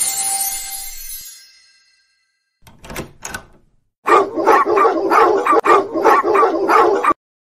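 Puppies barking in a children's show, with high yips and several short bursts of barks in a fast rhythm, close and loud, after a fading hiss and brief quieter sounds.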